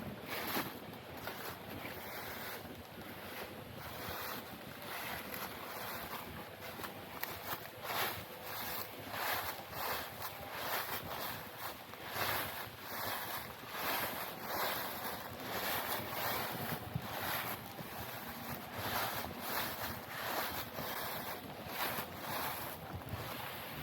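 Steady wind rushing through trees along a trail at Flat Rock Brook Nature Center, a continuous broadband whoosh with gusty swells and some microphone buffeting throughout, no voices.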